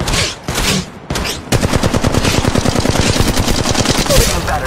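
Rapid automatic weapon fire in Apex Legends Mobile, loud and close, starting with a few short bursts, then a long sustained stream of evenly spaced shots running to the end.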